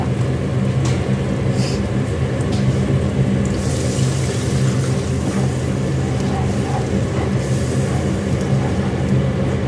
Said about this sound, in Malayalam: നമുക്കിനി ഇതിലേക്ക് ആവശ്യത്തിന് വെള്ളം ഒഴിച്ചു കൊടുക്കാം